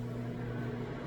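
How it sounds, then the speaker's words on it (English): Microwave oven running with a chocolate mug cake inside: a steady, low electrical hum with a constant drone and no breaks, close and moderately loud for the whole short stretch. "we bring our mug cake back into the microwave and leave it on for a minute"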